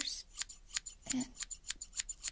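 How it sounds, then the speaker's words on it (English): Close scissors snip in a quick, regular rhythm, about a dozen sharp metallic cuts, with a brief soft murmur in the middle. "Okay, I got new scissors."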